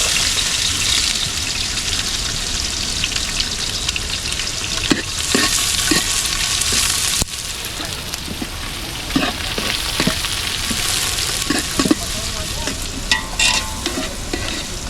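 Egg frying in a pan with masala paste at an outdoor village cooking spot, a loud continuous sizzle with scraping stirs and occasional clinks of the utensil, heard alone without talk.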